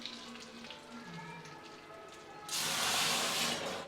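Quiet kitchen sounds give way to a sudden loud burst of sizzling as tempering spices hit hot oil, crackling steadily to the end.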